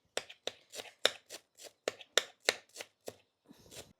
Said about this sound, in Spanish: Picamos el perejil.